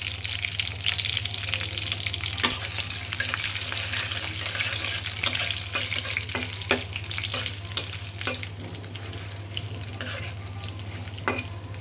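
Dried red chilies, bay leaf, whole cumin, nigella seeds and panch phoron fry in hot oil with a loud, continuous crackling sizzle and a spattering of sharp pops and scrapes throughout.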